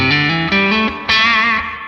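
An electric guitar through a Morgan amp simulator plays a short, loud phrase of sustained chords, shifting to a brighter, more aggressive distorted tone after a pickup switch about halfway through, with no talk.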